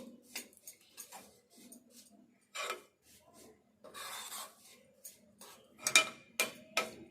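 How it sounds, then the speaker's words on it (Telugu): Jaggery being stirred in a pan until it melts into syrup for puffed-gram laddu, heard as intermittent scraping and rasping strokes of a spoon against metal, fairly quiet and close, with gaps between strokes. "ఈ బెల్లం కరిగేదాకా మంచిగా పాకం వచ్చేదాకా కలుపుకోవాలి."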